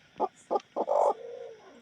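A hen being set on eggs to brood clucks in a few short, separate bursts, then gives a longer drawn-out cluck, close by in a quiet setting.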